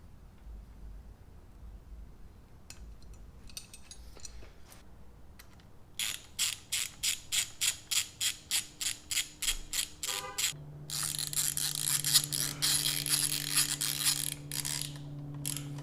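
Ratchet wrench tightening bolts on ape hanger handlebars of a 2020 Sportster Iron 1200 motorcycle, a close, regular series of sharp clicks followed by a faster, denser ratcheting burst, with no talk.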